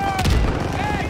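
Call of Duty WWII battle gunfire, a brief dense burst of close rifle and machine-gun shots over a low rumble, with a voice shouting alongside.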